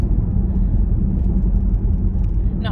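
A very fast car drives along at steady speed, its engine a loud, continuous low rumble with road noise and no break.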